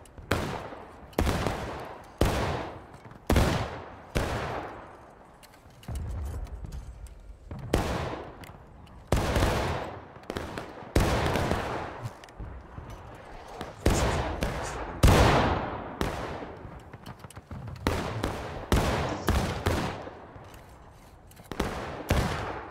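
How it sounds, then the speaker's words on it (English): Repeated musket volleys crack out in a War of Rights battle, loud close blasts fired in irregular bursts with echoing tails, some shots stacked together and others separated by short pauses, continuing throughout. "Shooting guys, keep firing."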